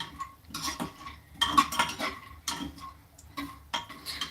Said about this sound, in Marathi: मंद आचीवरतीच आपल्याला शेंगदाणे अगदी छान खमंग असे परतून घ्यायचे